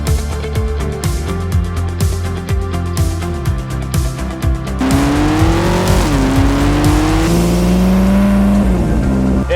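A McLaren's 3.8-litre twin-turbo V8 revs hard and close, with rapid rising and falling engine pitch, sharp blips, then long sustained climbs through the gears, loud and steady with no talk over it.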